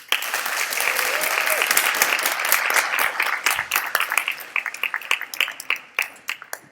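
Audience applause fills a live radio play stage performance of A Christmas Carol, a dense sustained wash of many hands that thins toward the end into scattered individual claps.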